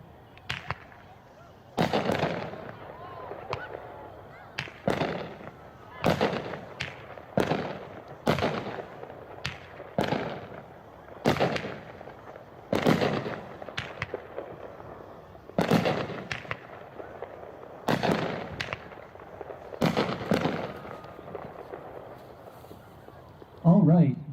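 Hot Shot Bananarama, an 8-shot 200-gram consumer fireworks cake, firing at a demo: a steady series of sharp pops and booms at roughly one-to-two-second intervals, moderately close, with faint background chatter.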